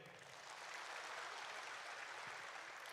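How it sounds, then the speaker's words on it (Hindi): Audience applause at a World Environment Day ceremony in Islamabad, a faint, steady wash of clapping from a crowd that holds evenly for about three seconds with no talking. "इस पे तालियां होनी चाहिए."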